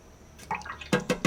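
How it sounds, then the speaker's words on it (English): A watercolor paintbrush is swished and tapped in a jar of rinse water, making soft close splashes and a few quick sloshing dabs in a quiet room. "I'm rinsing my brush, picking up the next color"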